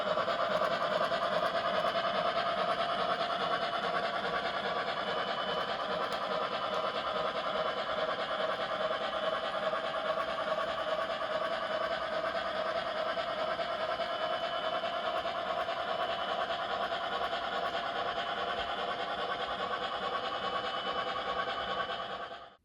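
A model Shay steam locomotive, its sound taken from a real Shay at Cass, chugs and clatters steadily with a continuous mechanical rumble and hiss, close and unchanging for a long stretch before cutting off.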